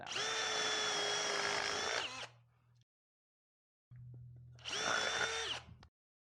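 Power drill boring into scrap wood on a workbench, two loud sustained whining runs with a pause between, the motor winding down after the first burst and revving up again.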